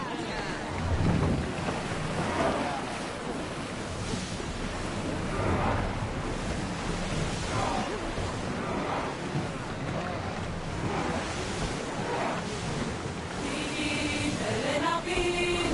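Ocean waves wash and surge around a sailing ship in Assassin's Creed Odyssey, with rushing wind and a continuous roar of water, plus a few brief game tones near the end.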